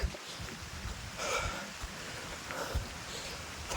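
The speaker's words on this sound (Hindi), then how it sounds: "बट हाँ बारिश हो रही है" Light rain falls as a faint, steady hiss with occasional soft drips and thumps, quiet and without any voices.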